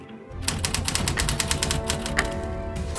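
Rapid run of crisp typewriter key strikes, about a dozen sharp clacks in an irregular burst, close and loud after a brief quiet start.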